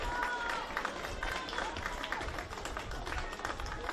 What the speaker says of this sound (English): It's a warm round of applause from the Blue Devils faithful